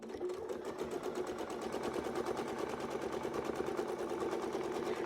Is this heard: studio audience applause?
no